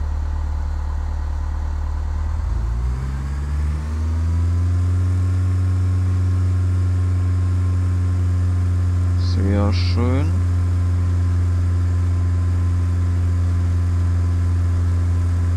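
Flight Simulator X aircraft engine steadily rising in pitch as the throttle opens, then holding a loud, even droning hum, with a brief spoken remark partway through over the engine.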